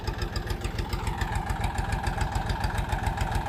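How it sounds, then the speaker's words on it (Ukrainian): A tractor engine idles steadily nearby on a village plot being cleared for ploughing, a low rhythmic chugging with a rattling vibration, continuous throughout and with no voices. "Ось такий трактор."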